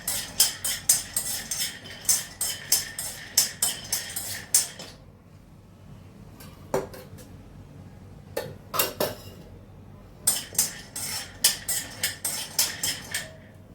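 A spoon scraping and clinking rhythmically against a pan while a laddu mixture is stirred and roasted, in quick repeated bursts close up, with a quieter pause and a few scattered knocks in between.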